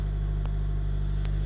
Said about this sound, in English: my car is also equipped, as you can hear it, with the TRD axle back